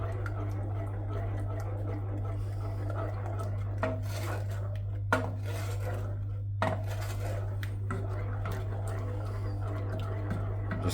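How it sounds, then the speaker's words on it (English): A spoon scrapes and clinks now and then against a pan of sticky toffee pudding sauce. The sounds are sparse and fairly faint over a steady low kitchen hum. "Just keep them in, stirring until you get up to a boil."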